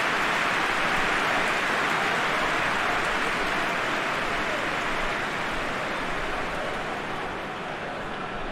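A large stadium crowd in the football game PES 21 claps in a dense, sustained roar of applause that stays loud throughout and eases slightly toward the end.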